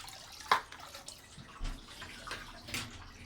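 Water streams and splashes into a bucket during a saltwater aquarium change, a faint steady trickle with a few louder splashes and no voices.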